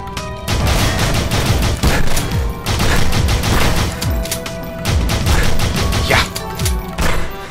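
Rapid bursts of gunfire in the game GoldenEye: Source, dense and loud, with repeated volleys and short pauses between them; a brief spoken word near the start.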